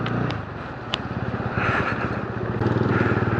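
Motorcycle engine running steadily while riding on the road from Bangalore toward Chikmagalur in monsoon weather, a loud close rumble with wind noise and rising revs, no talk.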